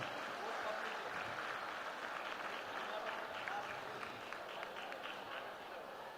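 A youth association gathering's crowd claps for parents, a sustained wash of applause that stays fairly quiet and distant throughout.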